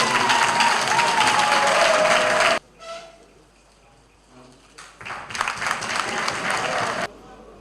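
Audience applause for a speaker at a church synod gathering in Cameroun, loud sustained clapping from a large crowd that cuts off, then a quieter lull and a second burst of clapping before stopping.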